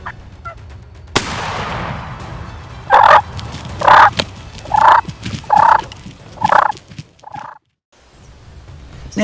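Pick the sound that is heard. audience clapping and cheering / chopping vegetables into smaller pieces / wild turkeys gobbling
wild turkeys gobbling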